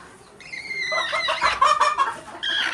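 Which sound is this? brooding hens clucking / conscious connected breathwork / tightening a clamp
brooding hens clucking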